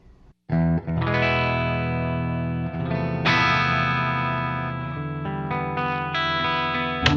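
Sustained electric guitar chords through a 1968 Fender Deluxe Reverb amp ring out with warm distortion and reverb, several strums held and decaying, loud and alone.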